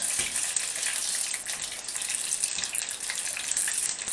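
Onions and sliced peppers deep frying in hot oil, a steady, dense, loud sizzling hiss with small crackling pops that continues without a break.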